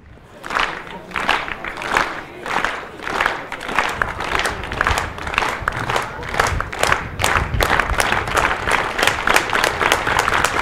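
A stadium crowd claps in steady rhythm at an athletics championship field jump, the clapping building and growing louder throughout, dense and continuous with no voices standing out.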